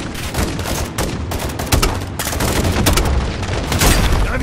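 Machine-gun fire rattles through a Call of Duty Modern Warfare II battle. Dense, loud volleys of rapid shots pile on top of each other with heavy booms mixed in, continuous for the whole stretch.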